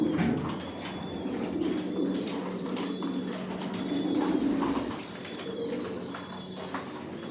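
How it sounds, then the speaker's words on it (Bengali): Racing pigeons kept in a breeding loft coo steadily and close by, layered with soft chirps and an occasional flutter of wings, filling the space with a continuous low murmur. "এখানে যে কবুতরগুলো দেখতেছেন এগুলো স্টকে রাখা, এগুলো রেস্টে দেওয়া, এগুলো বিডার।"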